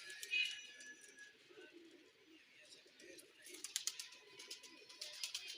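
Golden pigeons coo softly at a pigeon seller's. Their gentle, repeated coos and a few chirps sit at a moderate distance over a quiet background.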